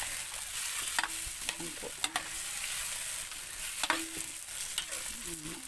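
Tomatoes stir-fried in a pan sizzle steadily at close range, with occasional scrapes and knocks of the stirring utensil and a brief voice speaking partway through.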